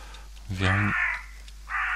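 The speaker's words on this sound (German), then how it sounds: "Der Rabe kommt." A raven caws in the video game Green Project: one loud, harsh, close call, followed by a shorter second caw after a brief pause.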